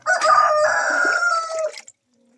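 A rooster crows once, close and clear, a single drawn-out call lasting under two seconds before falling silent.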